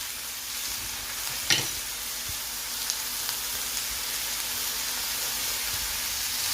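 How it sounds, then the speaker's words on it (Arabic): Onion and chicken frying in a pan with garlic, salt, black pepper and chicken spices, a steady close sizzle with a brief sharper crackle early on, no talking. "هنا بعد ما قليت البصل والدجاج راح نحط غير الثوم والملح وفلفل الكحل وتوابل الدجاج"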